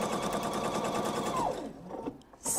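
A sewing machine runs fast, stitching fabric pieces for a thread catcher, with a steady mechanical whir and rapid needle ticking, then slows and stops.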